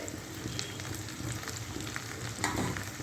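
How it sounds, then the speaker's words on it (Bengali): Potato and pointed gourd sauté with chili powder and cumin, producing a steady close sizzle broken by scraping stirs and small crackles, with no one speaking. "এই দিয়ে ভালো করে আগে একটু কষাবো"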